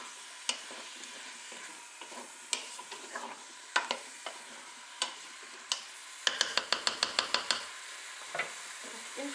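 Courgette stirred in a Cookeo multicooker pot, quiet sizzling under scattered utensil scrapes and knocks, then a quick run of rhythmic taps near the end.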